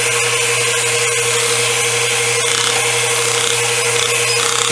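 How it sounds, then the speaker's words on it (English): A pneumatic hand engraver with internal piston-and-hammer action runs continuously, a loud, steady high-pitched buzzing drone with a constant hum beneath it, no voices. "And now I'm going to have to turn on the engraver, so it's going to be a little bit noisy."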